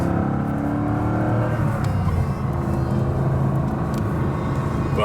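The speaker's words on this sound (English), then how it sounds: "It's a noisy car with the top down. It's the wind noises." A BMW Z8 roadster drives with its top down, its steady engine rumble blended with constant wind buffeting, loud and close throughout without speech.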